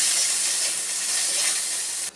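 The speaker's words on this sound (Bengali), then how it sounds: "পেঁয়াজটা দিয়ে দিলাম। এবার ভালো করে আমি ভেজে নেব।" Chopped onion fries in hot oil for a potato and raw papaya vegetable curry, a loud, steady close-up sizzling hiss that cuts off abruptly near the end.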